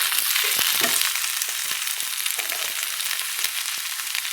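Chela fish chochchori frying in a pan gives a loud, continuous oily sizzle close up, with scattered light clicks of stirring and no talk.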